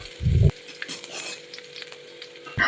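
Whole spices, including fennel seeds, fry in hot oil in a pan as crushed garlic is added. A burst of clatter and hissing comes first, then a softer steady sizzle with scattered crackles, and another clatter at the end.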